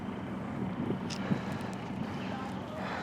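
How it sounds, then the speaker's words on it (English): Steady wind blowing outdoors along the Bund waterfront in Shanghai on a hot, sunny day, a continuous broadband rush with a low murmur of distant voices and activity underneath. "The wind is blowing a bit."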